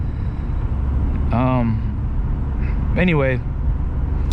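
Nissan D21 pickup truck with new suspension on the road, a steady low engine and road rumble heard from inside the cab under a man's brief speech.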